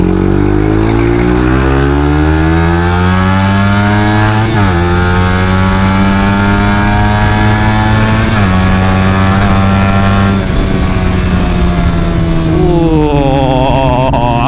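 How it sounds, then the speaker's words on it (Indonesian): A Suzuki GSX motorcycle fitted with an aftermarket exhaust riding along, a loud, close, continuous engine drone that climbs in pitch through the gears, with shifts around every few seconds and a rev rise at the end. "knalpot yang suaranya enak ini balik lagi ya, dan ini udah balik"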